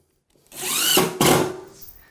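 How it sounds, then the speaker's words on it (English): A power drill drives screws into the wire wheel of a heated floor system, a close, loud whine rising in pitch, cutting off briefly, then a second short burst. "grab your drill and then toss in a few screws to hold all this steady"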